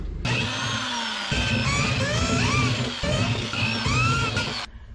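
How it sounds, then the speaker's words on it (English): A power drill with a step drill bit whines steadily, its pitch shifting as the bit widens holes, with a few brief pauses between bursts. "I'm gonna use a step drill bit just to widen those holes a little bit"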